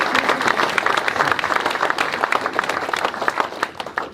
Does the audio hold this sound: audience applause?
yes